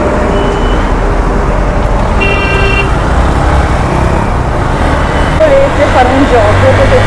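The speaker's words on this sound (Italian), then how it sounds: "potete contare quanti clacson sentite durante tutto il video" Car horns honk in short bursts amid loud, steady road traffic heard from a motorcycle, with engine and road noise constant and a voice speaking over part of it.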